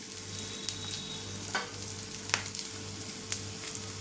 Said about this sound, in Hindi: थोड़ा सा हम घी और डाल देंगे। जिससे ये नीचे से भी आराम से सिक जाए।